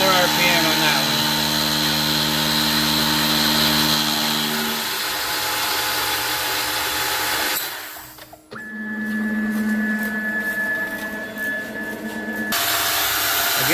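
A milling machine cuts a chamfer on a part for a tailboom mount, a loud, close machining whine and grind that drops away briefly partway through before a high steady tone and the cut resume.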